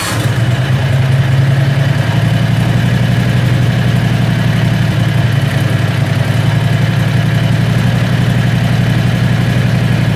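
A Predator 670cc engine runs cold, not yet up to temperature, with a loud, close, steady low idle drone that shifts slightly in pitch partway through.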